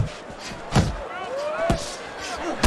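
Gloved punches landing in a Fight Night Champion boxing match, Demetrius Andrade against Luke Keeler, two sharp thudding hits about a second apart, with a commentator talking through the exchange.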